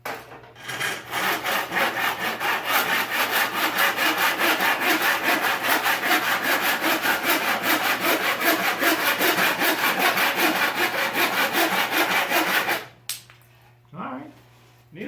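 Hand saw cutting wood for a small Riverton Duster boat transom: steady rapid back-and-forth rasping strokes, close and loud, running continuously for about twelve seconds before stopping, followed by a brief handling clatter.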